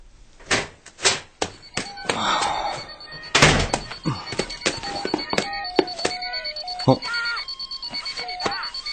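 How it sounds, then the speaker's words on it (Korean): An alarm clock rings loudly with high repeating beeps as a door opens, after several sharp thuds and knocks, and someone speaks over part of it. "문을 열자마자 알람 소리가 크게 들려왔다."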